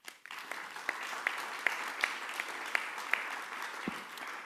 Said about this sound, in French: Vous pouvez l'applaudir de nouveau.